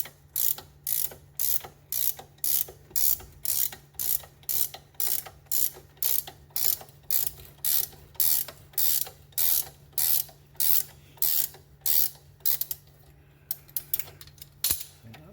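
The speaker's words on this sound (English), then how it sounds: "hold that still whilst we wind the nut off" A spanner ratchets a seized nut off an outer tie rod end on a project car, giving a steady run of about two dozen sharp, evenly spaced clicks over a low hum, ending in a few quicker clicks and a clunk.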